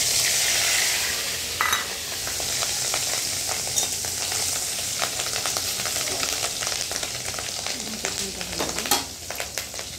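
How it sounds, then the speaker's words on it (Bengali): Fish roe frying in oil in a kadai while a rohu fish curry is being cooked, a steady close broadband sizzle with scattered crackles and pops throughout, no voices. "তো দেখো মাছের ডিমটাও ভাজা হয়ে গেছে"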